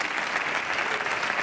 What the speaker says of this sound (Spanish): Otro aplauso para ellos, por favor